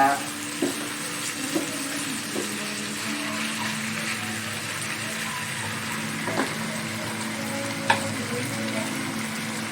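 Pork cheek fries in a pan with a steady close sizzle, while a utensil knocks and scrapes at intervals as it is stirred; a voice speaks faintly.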